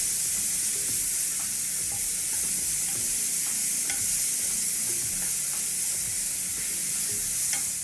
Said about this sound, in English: I'm gonna let them cook for about a minute or two. just so they can start sauteing up to start getting some flavor